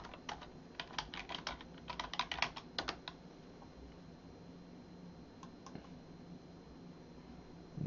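Quick bursts of typing on a computer keyboard, brisk clusters of clicky keystrokes close by, then a pause with a few scattered taps at the end.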